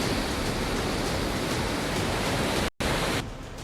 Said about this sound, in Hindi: अमेरिका के हवाई में गरजता समंदर डरा रहा है।